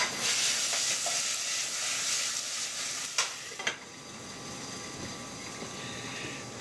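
Food stirred in a hot pan, a steady sizzling hiss with a couple of brief scraping knocks partway through, close and continuous with no talking.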